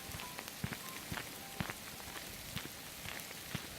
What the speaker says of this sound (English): I thought it was raining, but no. Little tiny pieces of ice.